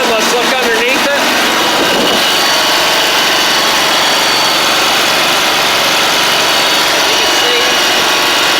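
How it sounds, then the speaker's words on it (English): A John Deere Z920M zero-turn mower, in for service after a missing transmission belt, runs at a steady idle close by, with a brief clattering at the start and an even, buzzy engine drone throughout. "Alright guys, mower's running."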